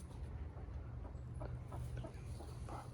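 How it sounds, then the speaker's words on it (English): Backyard chickens, several of them broody, cluck softly in a coop amid a steady low background hum, the short murmuring clucks faint and scattered. "I got 5 chickens that are broody currently"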